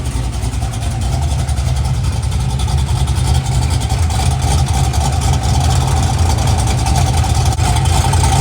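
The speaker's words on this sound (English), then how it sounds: "I got the idle down to all the way down to 800 to make it chop much harder." A Pontiac Firebird with a 345 cubic inch engine idles roughly at about 800 rpm, a loud, close, lumpy rumble with a steady choppy pulse throughout.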